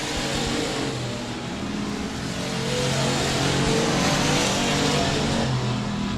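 Continuous roar of dirt track race car engines, loud and sustained, with revving swells as cars run around the speedway; no talking.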